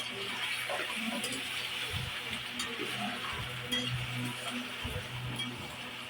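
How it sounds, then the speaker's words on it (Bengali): Fish heads frying in hot oil in a home kitchen, a steady broadband sizzle running throughout with occasional soft clinks and stirring knocks from a utensil, fairly close and moderately quiet, with no talking. "তারপর আমি মাছের মাথাগুলো তেলের মধ্যে দিয়ে দিলাম"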